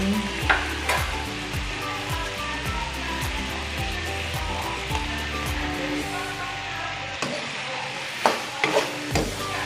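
Chicken adobo stirred in a pan, a continuous close sizzle with a tonal hum and repeated spoon scrapes and taps, easing briefly near the end before a few sharp knocks.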